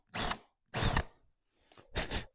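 A power drill with a Forstner bit whirs in four short bursts, each spinning up briefly then stopping, with quiet pauses between them; close and moderately loud.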